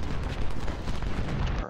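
Dense, continuous roar of artillery and massed gunfire in Ultimate General: Civil War, loud and rumbling throughout with no pauses.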